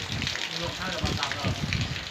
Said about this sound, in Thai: บรรยากาศฝนตกนะครับผม ตกทุกที่นะครับ